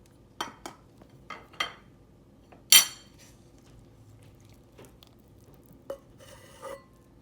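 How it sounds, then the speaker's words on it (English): A utensil knocks and scrapes against a bowl as crumbly dough is mixed with melted butter and egg for blueberry squares, giving sparse clinks with one loud clatter and quiet gaps in between. "I'm gonna mix it up a little"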